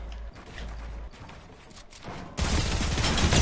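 Submachine-gun fire in a video game: mechanical clicks, then a loud, dense burst of rapid automatic shots that keeps going to the end.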